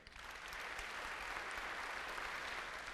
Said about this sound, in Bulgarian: Вашите аплодисменти за режисьора Иван Ничев